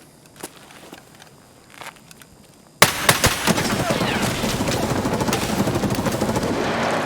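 Gunfire from scavs in the video game Escape from Tarkov: a few quiet, distant pops and footsteps, then a sudden loud, sustained burst of rapid automatic fire that continues crackling close by, with some talk faintly mixed in.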